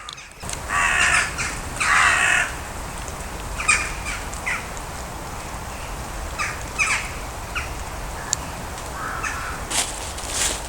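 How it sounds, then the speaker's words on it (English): A murder of crows caws in winter woodland in Scotland, harsh calls coming in bursts from several birds at mixed distances, some grouped and some lone, over a quiet, airy background with no speech. "a murder of crows came flying above me and perched on the treetops"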